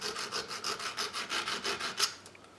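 A file scrapes back and forth over a part for an old model boat in steady, even strokes, roughly a dozen rasping passes in under three seconds. The sound is close and fairly quiet, and no one speaks.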